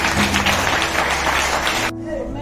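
An audience in a church claps steadily during a sermon, a dense, even patter that stops abruptly near the end.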